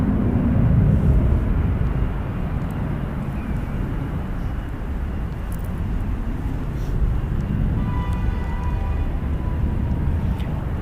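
A United Boeing 787-9 Dreamliner takes off from runway 28 left at San Francisco International Airport, a loud, steady jet engine roar that swells and holds throughout, with a faint whine rising near the end.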